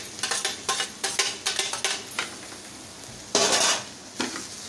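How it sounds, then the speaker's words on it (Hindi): Boiled potatoes, half a kilo broken into pieces, being mashed in a metal pan, heard as repeated rhythmic scraping and clanking strokes at close range with one longer scrape, no talking. "आलूओं को इसमें मैश कर दें।"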